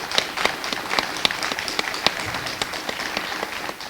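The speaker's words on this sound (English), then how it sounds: "just give them a round of applause" Audience applause at a victims' rights week recognition ceremony for victim witness advocates, a room of people clapping steadily with crisp individual claps popping out, moderately close and sustained.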